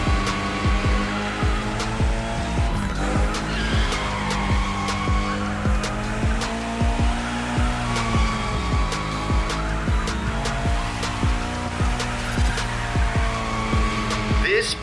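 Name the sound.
car drifting with tire squeal in The Crew Motorfest video game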